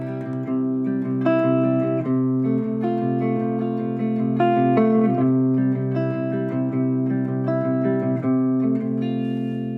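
An electric guitar plays open triad voicings, a smooth run of ringing chords and arpeggiated notes that sustain and overlap at a steady, moderate pace with no talking.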